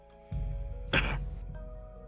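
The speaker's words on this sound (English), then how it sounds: "He gives an awkward cough." An awkward cough from a character in the visual novel game Echo, one short throaty burst over a faint background music bed, close and fairly soft.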